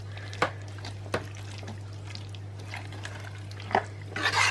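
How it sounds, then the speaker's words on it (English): A metal spoon stirs stew ingredients in a slow cooker, giving a few soft scrapes and clinks spread over a quiet background with a steady low hum. "I'm just going to give this a bit of a mix."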